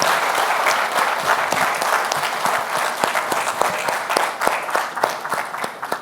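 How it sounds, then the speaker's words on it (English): Audience applause at a legal conference session, a full room clapping steadily with distinct sharp individual claps standing out, fairly loud and sustained across the whole stretch. "May I have a big round of applause?"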